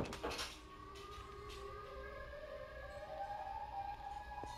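Siren Head creature in a horror video game, a wavering siren wail of several rising and falling tones that drifts in and out against a dark, quiet backdrop, with no talking.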